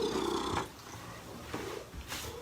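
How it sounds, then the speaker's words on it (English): A house cat purrs close by in an indoor room, a soft rhythmic rumble that rises and falls in short cycles with faint rustling. "Just need to move the cat out of the way"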